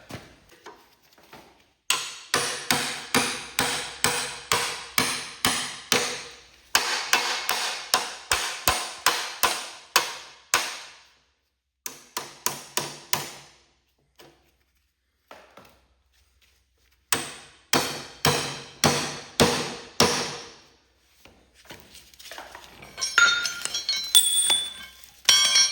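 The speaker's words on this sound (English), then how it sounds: "I'm going to get a small chisel and see if I can make a press out of it" A hammer strikes a small chisel in rapid, ringing metallic blows, in several runs of evenly spaced hits separated by short pauses, close and clear.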